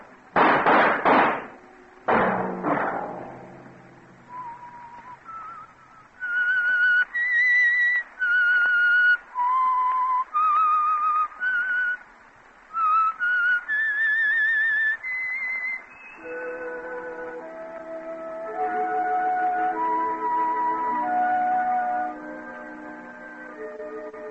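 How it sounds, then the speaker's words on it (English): A lone whistled melody, the theme of the Signal Oil radio drama The Whistler, rises and falls in clear sustained phrases after two sharp opening thumps, then gives way to soft orchestral backing in the final stretch. "Let that whistle be your signal for the Signal Oil program, The Whistler"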